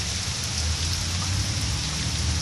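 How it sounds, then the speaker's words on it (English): Steady rain falls in an even, moderate hiss of drops on surfaces, continuous throughout and heard from under shelter, with no voices. "Yep, it's raining. Can't really see it, but look. Yep, you can hear it, but you can't see it."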